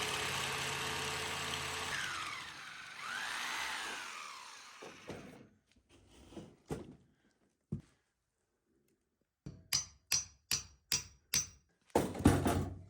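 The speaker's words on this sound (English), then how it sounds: "Hopefully I can still get it to work so I can pin this concrete together." Hammer drill boring into concrete, starting with a sustained grinding whine, then a run of sharp, close, spaced hammering knocks with brief pauses between bursts.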